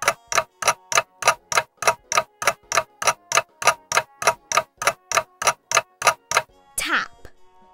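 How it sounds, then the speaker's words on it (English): A clock ticks in a steady, even tick-tock rhythm, about twenty sharp clicks close up and clear, then a brief chime-like ring at the end. "A clock makes a tick-tock sound."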